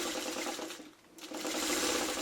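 A sewing machine stitches traditional fish fin quilt blocks in a fast, close whirring run that stops for about half a second and then starts again.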